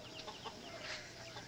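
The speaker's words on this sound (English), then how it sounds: "Tossing a hen through the door brings good luck." A hen clucks in short, scattered bursts while being tossed through a doorway, the soft calls rising briefly over steady room noise at moderate distance.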